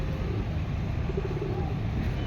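Low cooing from a pair of pigeons, soft repeated murmuring calls close by over a steady background hum, with no clear talk.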